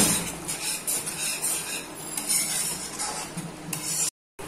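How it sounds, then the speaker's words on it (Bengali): A spoon scrapes and clinks against a pan as masala is stirred and fried in oil, with a soft sizzle underneath. The scraping is steady and moderately close and quiet, and the sound drops out briefly near the end. "এটাকে বেশ খানিকক্ষণ নেড়ে নেড়ে কষাতে হবে"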